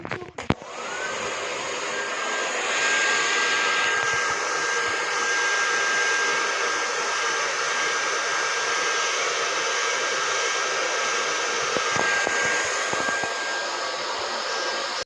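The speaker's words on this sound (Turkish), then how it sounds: "Arkadaşlar saçımı kuruttum." A hair dryer blows steadily and loudly for about fifteen seconds while drying hair, a constant close whooshing drone with a faint whine and no talk.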